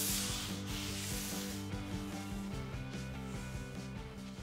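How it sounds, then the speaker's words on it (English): Steady rubbing of 240-grit sandpaper over a polyurethane-finished wooden table between coats, a soft continuous scrubbing hiss with faint strokes, close and quiet and with no talking. "Still sanding in between,"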